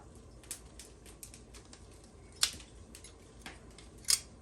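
Sharp, sparse clicks and light taps ring out against a quiet background as boiled eggs are cut with an egg slicer, a few crisp snaps standing out among softer ticks.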